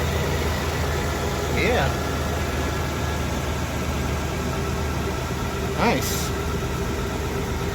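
A third-generation Toyota 4Runner engine idles after a catalytic converter clamp install, a steady, even rumble with no rattle, while a couple of brief voices speak over it.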